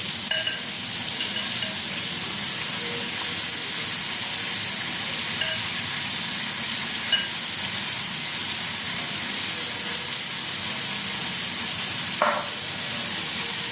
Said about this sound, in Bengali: এবার এটাকে আমি ফ্লেমটা হাই করে 2 মিনিটের মতন ফ্রাই করে